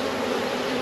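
Honeybees swarm and line up at the entrance of a busy New Zealand beehive fitted with a pollen collector, giving a steady close-up hum that holds without pause for under a second, with no voices.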